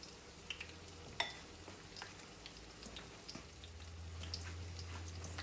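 Onion patties frying in grease in a pan, a faint continuous sizzle with scattered soft pops and crackles, growing slightly louder toward the end.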